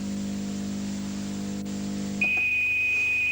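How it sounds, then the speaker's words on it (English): A 1980s Sharp microwave oven's steady low hum stops and a single high, sustained electronic beep sounds out clearly, close by. "At the end of the time, the oven will beep and switch off"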